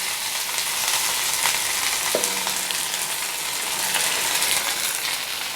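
Onion, green chilli, curry leaves, fennel and spices sautéing in a pan, a steady, loud sizzle and crackle with faint stirring scrapes, no voices.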